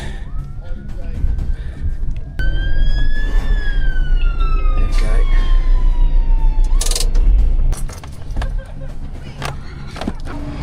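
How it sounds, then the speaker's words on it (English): A fire engine siren wails through a long traffic jam, rising and falling in a steady tone over the low rumble of idling vehicles and general street noise as it works its way up. "I can hear the fire engine in the background making its way up"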